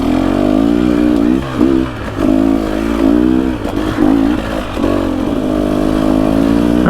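A dirt bike engine labours up a rutted mountain singletrack in the Pacific Northwest, loud and close, revving and easing in surges with clattering bumps along the way.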